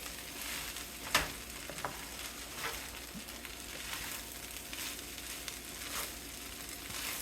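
Pork fried rice with seasoning being stir-fried in a pan over medium heat, a steady close sizzle with periodic scraping and tossing sounds, one sharper clatter near the start, no voices.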